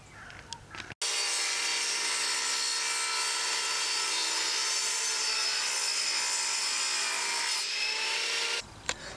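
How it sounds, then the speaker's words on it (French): A circular saw cuts through wooden boards for a birdhouse, a loud, steady whining rasp that runs unbroken for about eight seconds before stopping abruptly, with no voices. "moi j'ai découpé avec une scie circulaire parce que je l'ai sous la main"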